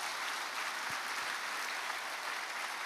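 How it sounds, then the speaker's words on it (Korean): Sustained applause from a church congregation during a Sunday worship service, a steady dense wash of clapping hands filling the whole stretch without a break. "우리 서 계신 신천 임원분들을 향해서 큰 박수로 격려해 주시기 바랍니다"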